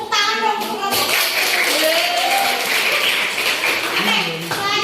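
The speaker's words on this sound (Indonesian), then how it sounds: "tepuk tangan dong untuk kelompok 1" A classroom group claps for the first presenting group, a short burst of applause from many hands mixed with children's chatter and voices.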